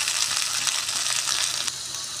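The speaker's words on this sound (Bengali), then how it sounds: "আলু হালকা ভাজা লাল হয়ে এসেছে" Potato pieces fry in a pan with a continuous, fairly loud hissing sizzle and faint stirring, turning lightly browned; no voices.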